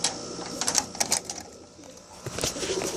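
Pigeons in a cage coo in soft repeated bursts alongside clicks and rustling. The sounds stay close and moderately loud, with a short lull in the middle.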